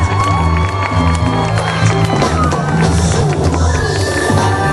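A crowd at a royal celebration event claps and cheers to welcome a band, loud and close, with shouts over the applause and sustained musical tones ringing underneath.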